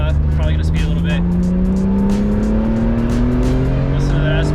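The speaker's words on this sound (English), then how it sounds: "Listen to that S54." A car with a BMW S54 inline-six engine climbs Big Cottonwood Canyon, its engine droning loudly and steadily with a rising pitch under acceleration, recorded close from the car with heavy wind noise.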